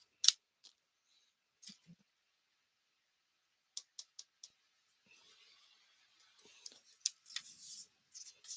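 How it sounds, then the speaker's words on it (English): Paper being die cut for card making, heard as sparse, faint clicks and crisp snaps separated by quiet gaps, followed by a short stretch of soft rustling and scraping handling sounds. "Listen, die cutting."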